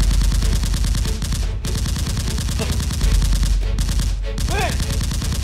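Nerf blasters fire in quick, dense volleys during a mock fight, loud and near, with short breaks between bursts and a brief shout amid the shooting.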